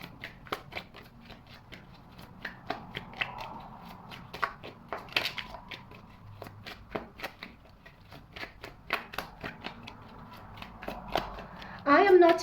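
Tarot cards are shuffled by hand in a steady run of crisp riffling snaps and soft card slaps, close and moderately quiet, with a brief louder rustle near the end.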